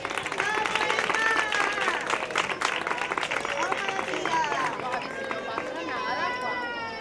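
Applause from parents and guests at a school end-of-year graduation ceremony in Almonte, a sustained patter of clapping mixed with crowd murmur and children's voices throughout.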